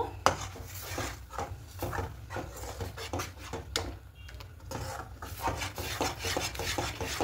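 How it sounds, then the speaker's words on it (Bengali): Milk for kheer is stirred continuously in a pan, a spoon rasping and scraping the metal in quick repeated strokes, close and fairly steady with no talking. "অন করে দিয়ে খুব ভালো করে নাড়তে আছে দেখুন"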